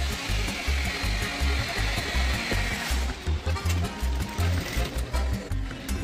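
A sewing machine stitching a fabric cord for a blouse latkan, its motor whirring in fast rhythmic pulses close up, without talk.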